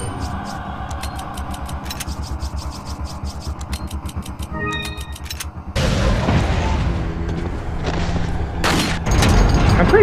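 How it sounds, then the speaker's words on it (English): Rocket launcher blasts in Resident Evil 4 land as loud booms over a dense mechanical, crackling game soundscape, with the heaviest impacts arriving in the second half. "Oh god, rocket launchers!"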